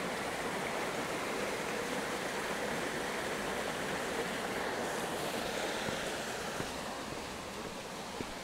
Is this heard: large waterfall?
yes